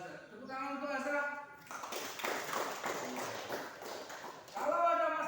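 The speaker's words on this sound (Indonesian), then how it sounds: "Tepuk tangan untuk Azhar" Classroom applause for a student: a burst of clapping from a group, lasting about three seconds, with a voice speaking just before and as it ends.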